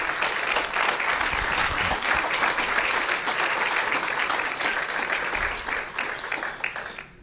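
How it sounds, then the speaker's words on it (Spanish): A church congregation claps loudly and steadily for several seconds during a sermon, a dense, sustained round of applause that thins slightly near the end. "Dele ese fuerte aplauso."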